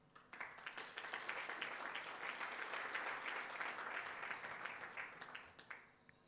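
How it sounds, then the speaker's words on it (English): Applause from a conference audience at an East Africa capital markets gathering: dense, steady clapping that builds quickly, holds for several seconds at moderate distance, then thins out into a few scattered claps. "give him another big round of applause"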